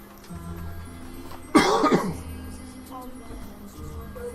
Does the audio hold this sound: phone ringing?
no